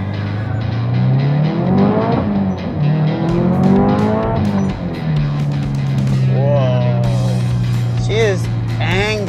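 Tuned Subaru STI engine revving hard under acceleration, pitch sweeping up through several gears with loud, close intake and exhaust roar, ending in quick higher revs, while someone talks over it.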